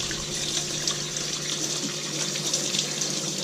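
Tap water runs steadily into a kitchen sink while green and red peppers are washed, a close, constant gushing stream with faint rinsing movement and no talk.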